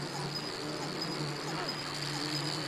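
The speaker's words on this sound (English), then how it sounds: "I start hearing a buzzing noise" A swarm of insects buzzes in Silent Hill 2, forming a faint, continuous, even drone with a high steady whine and no breaks.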